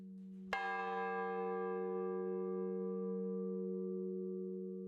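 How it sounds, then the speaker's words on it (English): A single church bell in an Orkney kirk tower, rung on a Sunday morning before the service, gives one clear struck tone whose long, rich hum rings on and slowly fades, heard alone and fairly close. "The bells are rung every Sunday morning for 15 minutes before the service to call everybody into the kirk."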